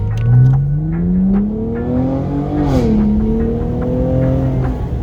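Cadillac CTS-V Sport engine revving strongly with no misfire or backfire: the note climbs steadily, peaks in one sharp rev, dips, then holds a loud, steady drone close by.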